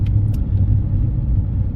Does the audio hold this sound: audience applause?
no